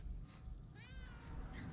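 A cat meows in the Murdered: Soul Suspect video game, one rising and falling call in the middle of a steady low in-game background hum, fairly clear and alone.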